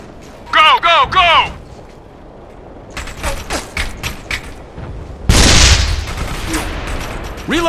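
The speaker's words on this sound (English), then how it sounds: "We're taking heavy fire here." Heavy gunfire in the video game Operation Flashpoint: Red River comes as loud bursts and a sustained broadband barrage, with shouted radio-style voices between the shots.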